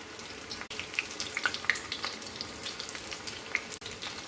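Onion vadas (ulli vada) frying in hot oil, a steady close sizzle and bubbling crackle with a few sharp pops scattered throughout, no voices.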